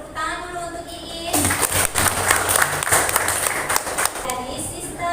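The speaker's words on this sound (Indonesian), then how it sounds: "tepuk tangan dulu untuk Iis." A classroom audience at a vocational high school in Makassar breaks into a burst of clapping lasting about three seconds, with a teacher speaking just before and after it.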